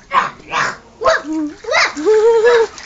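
A voice imitates a dog at a pool, giving a quick series of about six yelping woof-like barks, close and loud.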